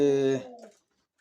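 A Hünkari pigeon gives one short, close, resonant coo, which stops abruptly and leaves silence.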